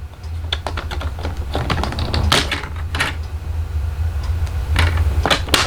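Paper trimmer blade slicing through a sheet of paper while preparing a cardstock piece for die cutting, a run of sharp, close clicks and scraping strokes of varying loudness.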